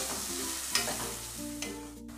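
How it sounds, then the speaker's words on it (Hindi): Chopped onions sizzle and fry in hot oil in a pan, a steady crackling hiss with a few louder stirring scrapes, close by and without speech. "प्याज को हमें गोल्डन ब्राउन होने तक भून लेना है"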